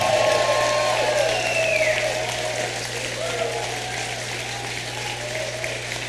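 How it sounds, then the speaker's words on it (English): Audience applause at a campaign speech, a steady wash of clapping heard at a distance with a low electrical hum beneath and a voice over it. "Let's give him a round of applause"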